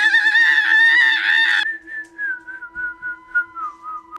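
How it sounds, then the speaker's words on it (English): An eerie whistling sound effect, loud and shrill: a wavering, layered screech for over a second, then a single pulsing whistle tone that wobbles up and down alone to the end. "They had just been hearing whistling and screeching, like a piercing screeching sound all day long"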